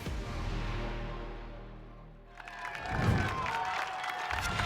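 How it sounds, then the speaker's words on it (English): Crowd at an American Ninja Warrior qualifier with parents, sister and friends on the sidelines, applause and cheering swelling up after a quieter stretch and staying loud and dense through the end. "Her parents and sister cheering her on down on the sidelines."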